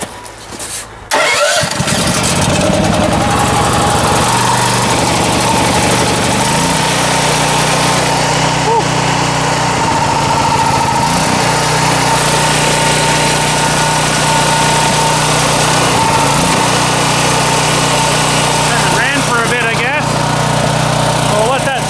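A Ford 800 tractor engine cranks and starts with the choke on, then runs loudly at close range with a rough, uneven idle that surges and dips; someone talks briefly over it.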